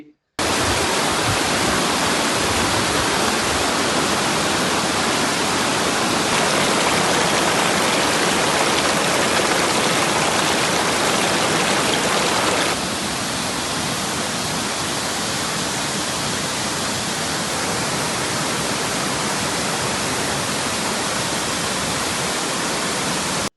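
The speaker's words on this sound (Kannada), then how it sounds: "ಈ ಒಂದು ಜಲಪಾತ ಹೀಗೆ ಕಾಣಿಸುತ್ತೆ" Continuous dense rush of falling water, loud and unbroken, from the small Mutyalamadu waterfall heard up close.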